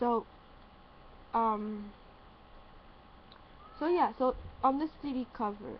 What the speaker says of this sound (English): She's just meowing because she hears my voice.